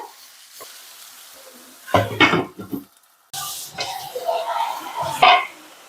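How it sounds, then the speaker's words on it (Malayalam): Chopped onion flowers drop into a hot pan for thoran and get stirred, giving a bursts of sizzle and clattering spoon scrapes after a quiet opening, with a brief silent gap midway. "ഇനി നമ്മൾ അരിഞ്ഞു വെച്ചിരിക്കുന്ന ഉള്ളിപ്പൂവ് അങ്ങോട്ട് കൊടുക്കാം. നന്നായിട്ടൊന്ന് ഇളക്കി അടച്ചു വെക്കാവേ."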